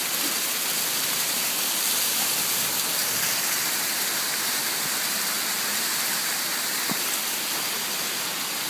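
An unnamed waterfall on a trail in Utah County makes a steady, dense rush of falling water, close and continuous, with no voices.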